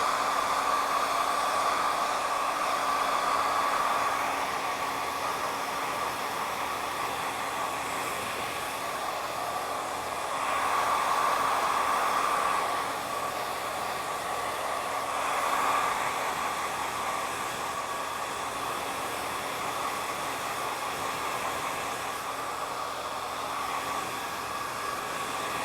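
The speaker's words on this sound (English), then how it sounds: "you're working the hair downwards and you're smoothing it as you're blow drying it" A hair dryer blows steadily and close up as it smooths and straightens hair downward, a continuous airy whoosh with slight swells in intensity, no voices over it.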